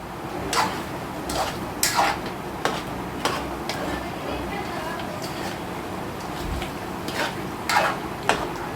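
A spoon stirs a chicken pulao masala mixture in a pot, giving irregular clinks and scrapes against the metal, spread through the clip over soft background noise.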